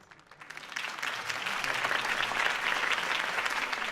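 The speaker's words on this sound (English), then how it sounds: "could have heard that applause" A crowd in the video game Batman: The Telltale Series breaks into applause that swells quickly and holds as a steady, dense wash of clapping.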